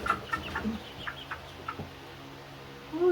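Juvenile chickens cluck in short, scattered calls near at hand over a quiet background, with a louder squawk at the end.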